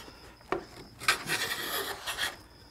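A hand plane pushed along a board of wood clamped in a vise makes a couple of rasping strokes: a short scrape, then a longer, louder shaving pass, close up with no talking.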